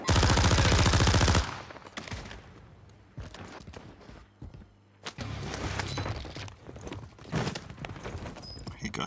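Gunfire rings out in the Warzone video game: a loud burst of rapid shots at the start, then scattered sharp shots and footsteps over a busy background, with a voice talking.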